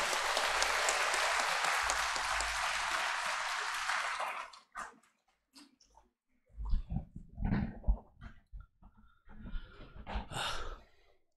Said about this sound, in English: With a round of applause, please welcome Dr. Angomcha Bimol Akoijam.